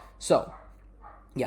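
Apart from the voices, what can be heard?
dog barking in the background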